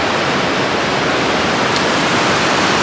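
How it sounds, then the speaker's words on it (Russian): The Sulzbach river rushes in a loud, continuous broadband roar of flowing water, steady and close, with no voices. "Река Сульцбах."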